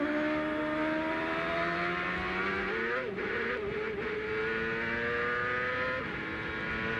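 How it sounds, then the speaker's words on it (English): A CART race car at the 2001 500 sits near with its engine roaring steadily while the tires spin, the pitch wavering and climbing midway, loud and continuous with no talk. "it's very surprised to see Adrian spin the tires and the car go right"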